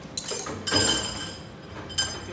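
Glasses of homemade salted caramel frappuccino topped with whipped cream clink together in a toast, a couple of bright chimes standing out against quiet room tone.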